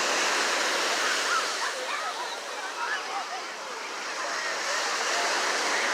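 Ocean surf at a San Diego beach near tide pools, a steady, loud wash of breaking waves close by with no pauses.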